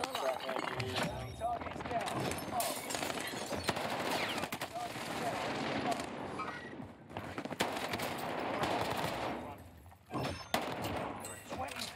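Multiplayer shooter gunfight with an MP40-class submachine gun, dense overlapping bursts of automatic fire and impacts running throughout at steady loudness, with voices talking over the action.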